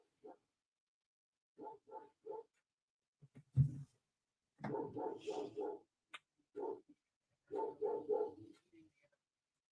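Pet dogs bark indoors in short, repeated bursts of several yaps each, fairly close, alternating with someone speaking commentary in a quiet room.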